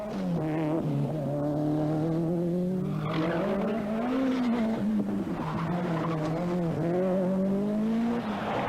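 A Ford RS200 rally car at the 1986 Manx Rally, its engine note droning and wavering as it drives, with tyres skidding and squealing over a sustained, moderately distant pass.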